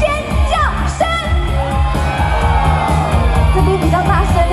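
A large concert crowd at the Wannian Festival by Lotus Pond in Zuoying, Kaohsiung, screams and cheers loudly and steadily, with scattered whoops and yells rising above the roar.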